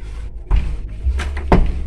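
A newly installed wooden door with its jamb being swung shut, a few close knocks and thuds as it meets the frame, the last bump the loudest, with no talking.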